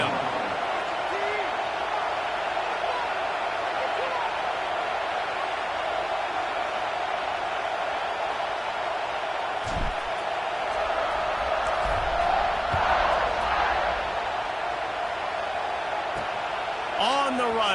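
Stadium crowd roaring at kickoff in a college football video game, a broad steady wash of cheering with a swell and whoops near the end, under occasional commentary.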